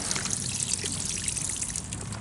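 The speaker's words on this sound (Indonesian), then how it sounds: "bisa kita siram sekali lagi supaya medianya menjadi rapat" Water trickles steadily onto the potting medium around a freshly planted rose cutting, a close, continuous soft pour with no voices.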